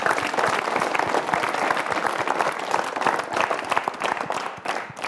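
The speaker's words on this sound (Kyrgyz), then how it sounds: "Рахмат, кол чабуулар." An audience applauds continuously and fairly loudly on a televised show with Roza Otunbayeva, a dense wash of clapping that fades slightly at the end.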